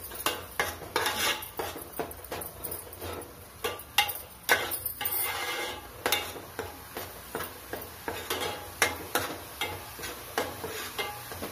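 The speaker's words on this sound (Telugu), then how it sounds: "అర టీ స్పూన్ పసుపు 1 స్పూన్ అల్లం వెల్లుల్లి పేస్ట్ వేసి కొద్దిగా వేపుకోవాలి" Turmeric and ginger-garlic paste frying in a pan for a fish curry, with a quiet sizzle under repeated close clinks and scrapes of a spoon stirring against the metal.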